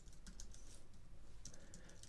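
Keys clatter on a computer keyboard in quick, uneven bursts of typing, close and fairly quiet, with no voices over it.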